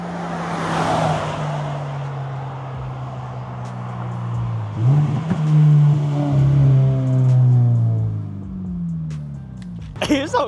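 A 2025 Toyota GR86 fitted with an HKS Hi-Power single exit exhaust revs hard, climbing and falling through a long loud rise, then settling to a lower drone, heard from outside the car with faint background noise.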